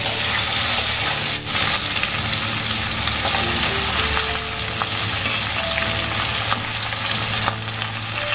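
Potato and pumpkin fry in a pan as Malabar spinach goes in, with a loud, steady sizzle and hiss close by and occasional stirring scrapes throughout.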